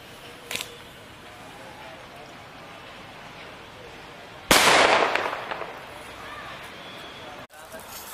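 A bullet bomb firecracker launched from a slingshot bursts with one sharp, loud bang midway that decays into a crackling tail, after a faint earlier snap, with voices talking in the background.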